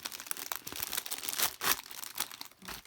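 Plastic packaging for a paper crafting kit crinkles and crackles in close, loud bursts as it is cut open and handled, with rustling peaks throughout and no talk.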